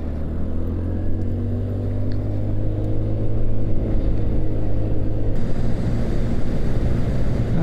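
A motorcycle engine runs at full throttle into a headwind, a steady, loud, low drone mixed with heavy wind roar, continuous with no speech.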